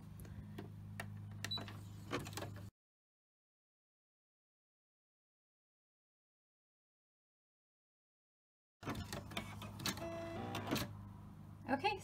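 An embroidery machine stitches an applique tack-down, giving a steady mechanical hum with rapid clicking. It cuts out for a long silent gap and then resumes, with a person talking nearby.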